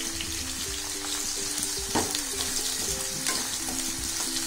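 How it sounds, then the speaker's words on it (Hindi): Potato pieces frying in hot oil in a pan for vegetable pulao, a steady close sizzle with scraping stirs of a spatula and faint tonal hum beneath, no talking. "फटाफट से भूनेंगे और इसको मिलाते जाएंगे बिल्कुल"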